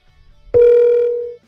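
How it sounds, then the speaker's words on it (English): A single outgoing call tone sounds through a Lexus with Apple CarPlay, one clean electronic beep starting abruptly and holding steady for nearly a second before cutting off, loud and alone. "Calling CJ."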